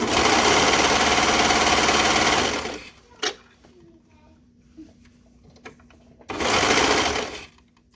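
A sewing machine runs fast stitching a seam on joggers, with a loud continuous whir for about three seconds, then quiet handling clicks, then a second burst of stitching.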